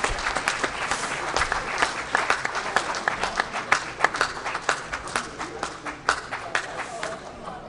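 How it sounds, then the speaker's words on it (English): A crowd applauds the military Chief of Staff at a congressional caucus veterans' affairs session, with sustained, lively clapping and scattered voices mixed in. "Can we get another round of applause for the Chief of Staff for the military,"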